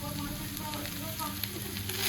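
Okra seasoned with turmeric and salt frying in a pan, a dense continuous close sizzle with faint stirring scrapes underneath, steady throughout.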